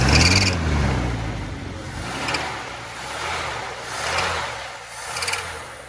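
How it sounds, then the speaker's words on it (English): A 1975 Chevy C10 pickup with a carburetor problem revs in neutral, its engine swelling and falling back in repeated throttle blips about every couple of seconds, heard alone and fairly close. "Neutral, it revs up just fine, but in drive, stalls out"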